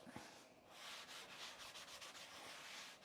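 Someone quickly rubs flour out of a cooking pan while making flour tortillas, producing a soft, continuous dry scraping and brushing with rhythmic strokes, faint and close.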